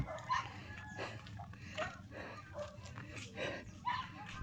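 A dog yips and whimpers several times in short bursts over a busy background of other noise, fairly close.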